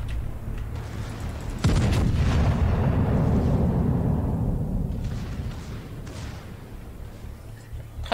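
Heavy naval gun salvo from the German battleship Siegfried in World of Warships, a loud sudden boom followed by a long rumbling roll that slowly fades over several seconds.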